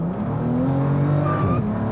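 A 2023 Bentley Flying Spur Speed's 12-cylinder engine accelerating hard, with a rising, snarling rev building over about two seconds, heard loud and close from inside the car.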